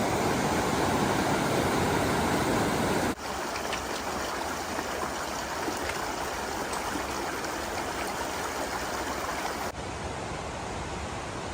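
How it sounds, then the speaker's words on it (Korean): Fast-flowing river beside a hiking trail on the Te Araroa in New Zealand: a loud, steady rushing roar that fills the whole stretch without a break. "오늘도 내내 강옆을 따라 걷기 때문에 거세게 흐르는 강물 소리가 아주 시끄럽습니다."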